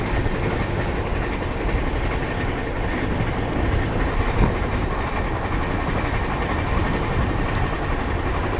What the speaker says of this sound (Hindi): जब रेत के बीच से हमारी ट्रेन चल रही है